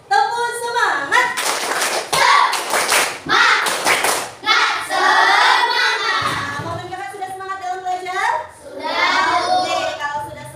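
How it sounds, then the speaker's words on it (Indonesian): A classroom of children performs a rhythmic spirit clap together, bursts of loud hand claps and thumps in a patterned beat, with children's voices chanting along throughout. "kita tepuk semangat terlebih dahulu"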